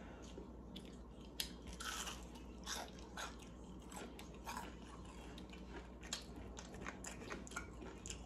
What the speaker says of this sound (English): Oh, my God, onion ring. Y'all hear that crunch?